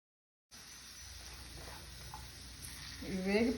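Raisins and cashews sizzle in hot ghee in a pan, a steady soft frying hiss that grows slightly louder toward the end, with faint stirring and a bit of background voice.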